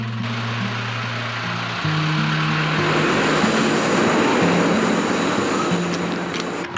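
Passenger airplane in flight, a steady cabin drone of engines with a low humming tone, continuous and moderately loud, stepping up slightly in intensity after a couple of seconds.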